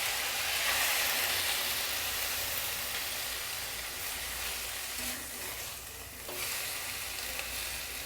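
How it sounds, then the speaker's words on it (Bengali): Steady, loud sizzling of water hitting a hot pan of spinach and mung dal, a continuous hiss with a brief sharper burst midway, no voices. "এবারে অল্প একটু জল দিয়ে দেবো।"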